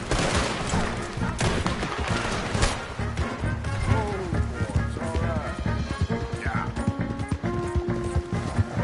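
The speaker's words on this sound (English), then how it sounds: "Open fire on him!" Gunfire rattles through a chaotic Red Dead Redemption 2 horseback chase, with galloping hooves, scattered shots and crashes. The mix is loud and dense, and voices shout over it.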